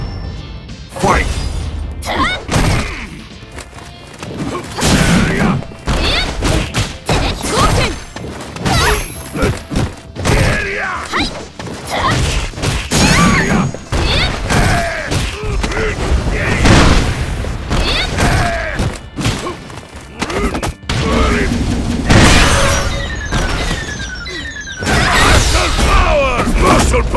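Street Fighter V fight with a dense stream of punches, kicks and heavy impact booms hitting in rapid bursts, mixed with in-game shouts and effects throughout.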